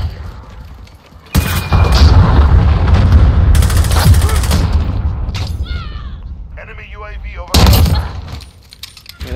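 A cruise missile strike and gunfire erupt in the video game Call of Duty Modern Warfare in hardcore mode, with loud booming bursts and rapid shots, then a sharp blast near the end, while a voice talks over the action.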